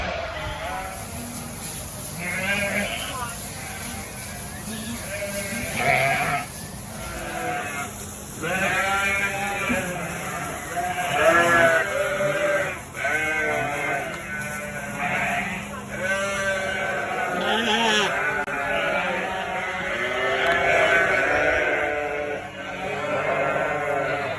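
Sheep and lambs bleat repeatedly indoors, several voices overlapping in a busy barn chorus over a steady background hum.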